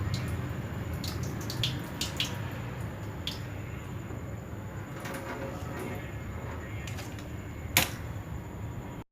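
Washed sesame seeds are strained of their rinse water in a kitchen, giving a soft continuous watery wash with scattered small clicks and taps, quiet and close.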